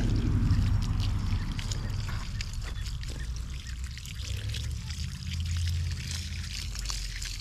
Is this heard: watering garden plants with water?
yes